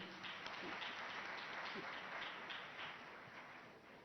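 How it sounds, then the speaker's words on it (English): Applause from the audience at the opening session of the Africa–France summit in Kenya, a steady wash of distant clapping held for about four seconds before gradually thinning. "A big round of applause to their excellencies."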